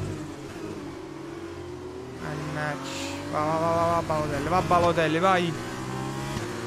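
An F1 car in the F1 2020 game at Bahrain accelerates hard, its engine note rising through gears in repeated climbing whines that grow louder toward the end, while someone talks excitedly over it.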